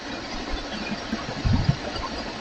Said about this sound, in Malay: The motor is switched on.